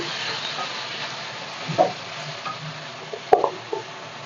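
Chopped eggplant sizzling in a frying pan for vangibath while being stirred, with a soft continuous fry hiss and a few scraping stir strokes.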